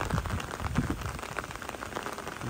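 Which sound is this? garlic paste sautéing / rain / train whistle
rain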